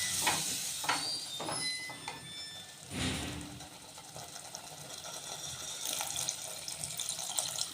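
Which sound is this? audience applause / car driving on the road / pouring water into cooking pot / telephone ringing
pouring water into cooking pot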